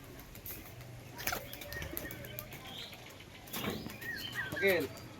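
Pigeons take off from a rooftop loft and beat their wings in brief bursts of flapping, mixed with faint chirps, traffic noise and distant voices.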